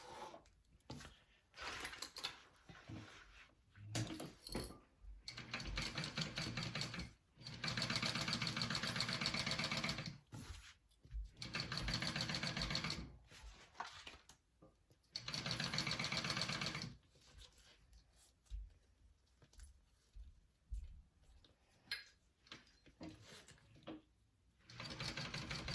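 A sewing machine bastes handbag fabric in several quiet bursts of fast, even whirring stitches, separated by pauses of near silence.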